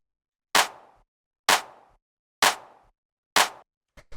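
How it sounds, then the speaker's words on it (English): Four punchy, sharply attacked clap/snare hits from a deep minimal house track, evenly spaced about a second apart with quick decays, followed by a short flam of softer hits at the end. "So what this is we have this house snare."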